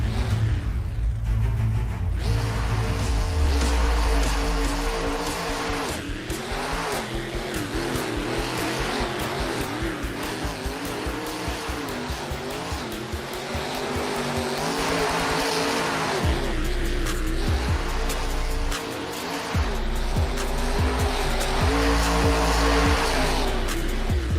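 Race cars competing in the Carnage Tour at Liwa, UAE, with loud sustained engine roar, revving pitch sweeps as the cars accelerate and shift, and steady crowd-level noise throughout with no clear speech.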